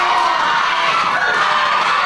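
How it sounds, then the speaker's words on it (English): A wrestling crowd cheers and shouts in a dense, loud, continuous roar around the ring, with no clear voices rising above the noise. "Mulligan's got this crowd behind him"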